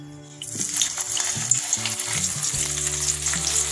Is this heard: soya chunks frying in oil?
yes